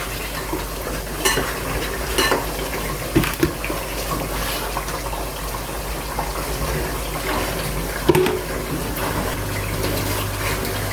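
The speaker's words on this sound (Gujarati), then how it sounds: "તો આપણે બે લોટને મિક્સ કરી નાખીએ તેલ આટલા માટે વધારે લીધું કે લોટ એમાં શેકવાનો છે" Gram and millet flour roast in oil in a pan, giving a soft steady sizzle with scraping stir strokes and a few sharper knocks, close and continuous without voices.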